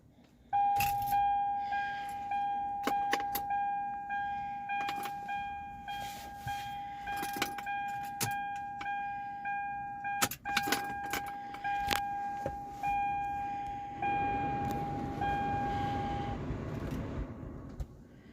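Keys jangle and a repeating electronic chime sounds inside a 2003 Toyota Avalon with 163,976 miles, then the engine is started with an older-style key and catches with a broad rumble near the end.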